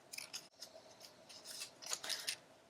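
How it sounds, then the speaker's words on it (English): Scissors snip feathers into an egg carton wing for an upcycled Easter craft, giving a quick series of close, crisp paper-fibre cuts in short irregular bursts. "I'm going to cut a few little"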